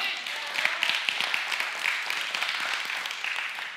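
A church congregation claps in a loose, continuous patter that runs the whole stretch at moderate volume, with some voices faintly mixed in.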